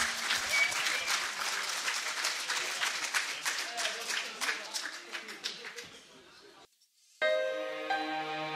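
An audience at a Partille rock band final cheers and applauds for a band, a dense, loud wash of clapping and crowd noise that thins out, drops to near silence, then gives way to a bright tonal sound.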